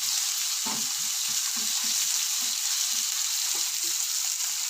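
Crushed ginger and garlic fry in a pan, giving a loud, even sizzle throughout, with soft irregular stirring scrapes and taps close by.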